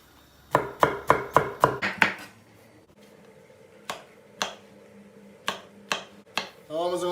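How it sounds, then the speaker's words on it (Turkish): A knife chops peppers on a cutting board during Turkish meatball preparation, a quick run of six sharp evenly spaced chops, then slower isolated cuts, with a voice speaking near the end. "Hemen biberini doğruyoruz"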